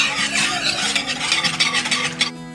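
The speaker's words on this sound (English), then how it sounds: "I'm going to start mixing it with my whisk" A whisk stirs seasoned Alfredo sauce flavored with salt, pepper, thyme and rosemary for a chicken Alfredo pasta bake, making a steady close scraping swish against the pan that stops abruptly near the end, with no talking.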